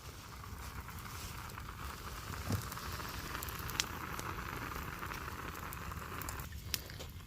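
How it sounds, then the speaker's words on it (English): A long campfire burns under a tarp shelter in cold rain, giving a steady close crackle and hiss over the patter of rain, with a few sharper pops standing out. "that fire's so hot, it looks like the pit of hell up in that mud"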